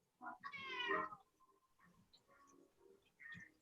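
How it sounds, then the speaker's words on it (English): A pet cat meows indoors, one drawn-out close meow followed by softer short calls and a final brief mew, fairly quiet with little else around. "I hear your kitty, Liz."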